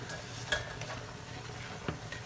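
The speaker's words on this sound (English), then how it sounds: "Now stir in the green beans." Green beans are stirred into a chicken and chorizo risotto in a pan, with faint scraping and soft clinks of a utensil over a quiet simmer and no voices.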